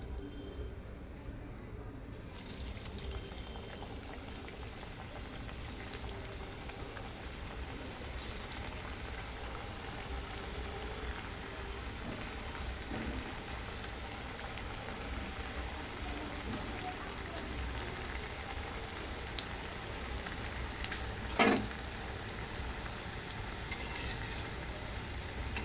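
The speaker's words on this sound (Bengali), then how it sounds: "আমি সরষা তেল দিয়ে ভেজে নিচ্ছি।" Green banana pieces frying in hot mustard oil, a low steady crackling sizzle running for the whole stretch with a few small clicks and one brief sharp knock, no voices.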